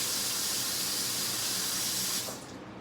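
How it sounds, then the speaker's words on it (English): A hand rinsed under a running kitchen tap while seasoning country ribs, a steady close hiss of water that cuts off abruptly near the end, leaving quieter room noise. "Let me rinse my hand again because I used my fingers for the salt."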